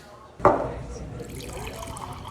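Water is poured into a glass at a table, starting with a sudden splash and then settling into a steady, fairly close pour that trails off.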